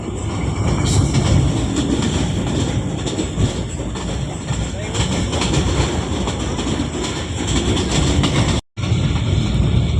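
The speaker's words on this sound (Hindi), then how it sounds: "35 अब sir Syed express through pass करने लगी है" Sir Syed Express, hauled by a GU14 locomotive, roars through Shorkot railway station at about 105 km/h, a loud sustained rumble of wheels and carriages with rattling clatter, running nearly unbroken for the whole stretch.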